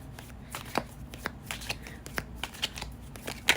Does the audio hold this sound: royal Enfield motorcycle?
no